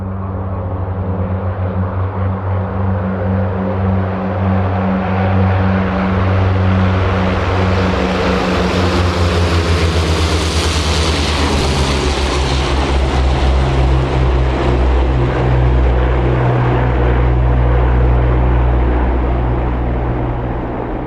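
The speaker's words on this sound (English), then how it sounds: "we would like to recreate a historic flyover of the C-47s on Normandy" Several C-47 transport planes pass overhead in a Normandy warbird flyover, their radial propeller engines droning loud and steady, swelling toward the middle and holding a thick rumble throughout with no talking.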